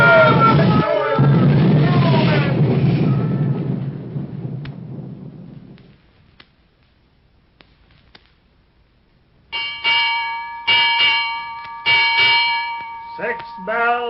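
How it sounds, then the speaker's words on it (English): A ship's bell strikes six bells in an old-time radio adventure drama aboard a ship in a storm. Heavy thunderous rumble fades to near silence, then several loud, ringing bell strikes follow in close groups. "6 bells and all's well."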